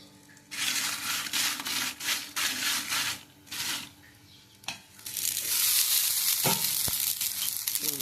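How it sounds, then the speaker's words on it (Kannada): Chillies fry in a little oil, giving bursts of crackling sizzle that rise and fall with stirring, then a louder continuous hiss near the end with a couple of sharp knocks. "ಮತ್ತು ಮೆಣಸು ಅದು ಫ್ರೈ ಆಗಲಿ, ಸ್ವಲ್ಪ ಎಣ್ಣೆ ಹಾಕ್ತೀನಿ."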